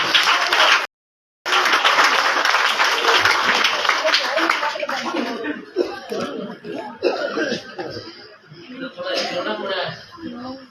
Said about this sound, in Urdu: تالیاں ہو جائیں اس بچے واسطے